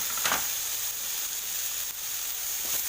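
Soybean curry fries in a covered pan over lowered gas flame, giving a soft steady sizzle and hiss, fairly faint and continuous, with a brief clink near the start.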